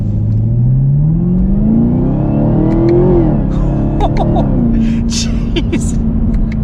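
A 2020 Chevy Camaro ZL1 1LE engine revs up through a rising drone, then drops sharply as it downshifts, settling back into a steady throb, loud and close with wind and cabin noise.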